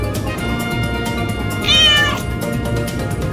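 A domestic cat gives one loud, drawn-out meow near the microphone, rising briefly over steady game music and background sound from a PlayStation 5 Kingdom Hearts session.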